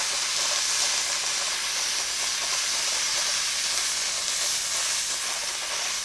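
A steam cleaner fitted with a nylon brush hisses steadily while cleaning a stove, a continuous, fairly loud broadband jet of steam with no pauses and no talk.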